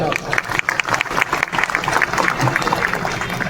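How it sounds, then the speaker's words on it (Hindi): Crowd applause breaks out at a Hindi poetry recital, a dense burst of clapping mixed with scattered audience voices and shouts, fairly loud and close throughout. "तालियां बजाओ"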